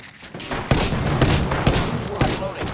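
Gunfire in the Apex Legends video game bursts out in rapid, loud cracking volleys with heavy booming thuds, close and dense throughout, with a faint voice underneath.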